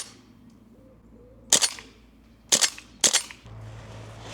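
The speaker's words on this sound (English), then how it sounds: "can see how fast the BBs are actually going when they hit Fred over there." Three sharp airsoft gun shots firing glass BBs, spaced about a second and half a second apart, each a loud crisp crack against a quiet background with faint low hum.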